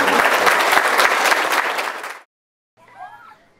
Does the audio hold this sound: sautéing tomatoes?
no